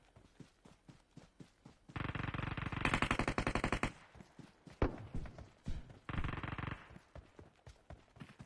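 A bot firing in a mobile shooter video game, rapid automatic bursts in two main stretches amid rhythmic footstep-like taps, moderately loud, with no talking.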